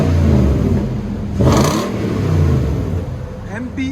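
A 2010 Nissan Titan 5.6L V8 with an MBRP cat-back exhaust revving, a loud close engine rumble with a sharp rev burst partway through, under brief talk.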